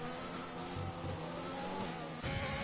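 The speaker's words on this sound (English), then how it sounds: "As we have a Ferrari out there." A Ferrari race car engine drones steadily in an F1 video game at Suzuka, holding a sustained high whine before a shift in pitch near the end, with no talk over it.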